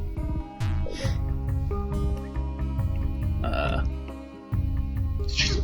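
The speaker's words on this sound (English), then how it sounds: "Did you burp?" A single long, drawn-out burp rumbles through a short stretch, loud and close, with a brief break before a final gurgling push.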